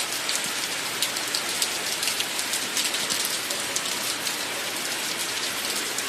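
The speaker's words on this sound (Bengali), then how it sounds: "কি বৃষ্টি নেমেছে, অনেক সুন্দর হচ্ছে" Heavy rain pours steadily onto surfaces nearby, a dense even hiss with countless drop patters and no pauses, loud and continuous, with no talk.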